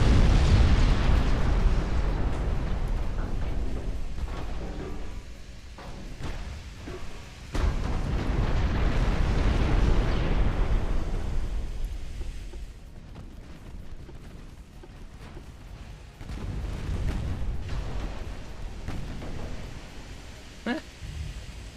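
Battleship artillery fire and explosions in a naval video game, with long rumbling blasts and rolling booms that swell and fade in waves, loud and near, a few sharp pops in between.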